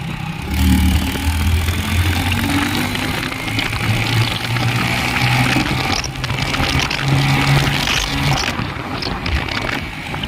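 A vehicle engine runs steadily in first gear, a loud, continuous droning hum close by that holds a fairly even pitch with small rises, and no voices.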